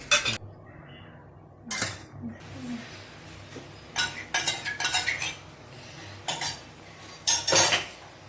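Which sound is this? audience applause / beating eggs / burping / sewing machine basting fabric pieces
beating eggs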